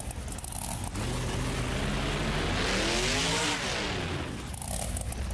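Simulated monster truck engine in BeamNG Monster Jam car crush, loud continuous revving with a rising and falling pitch sweep in the middle, tires and engine roar throughout.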